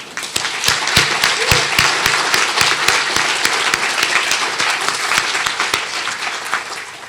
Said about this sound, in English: Mom, would you stand up so we can applaud you?